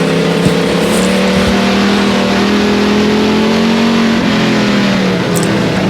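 Pure stock race car engine at a dirt speedway, heard from inside the car, droning loudly and steadily as the throttle is fed in, pitch rising gradually under load with no talk.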